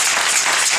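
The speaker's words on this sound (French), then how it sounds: "C'est l'acclamation ça" A brief burst of dense applause from a church congregation at an evangelistic Sunday service, loud and close, filling the whole moment.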